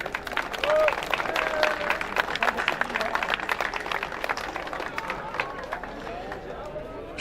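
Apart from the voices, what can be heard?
loud audience applause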